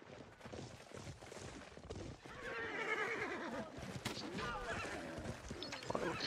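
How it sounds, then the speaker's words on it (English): Horses whinny loudly in a video game, with clip-clopping hooves and distant gunfire in the mix, while players talk over the action. "Horses."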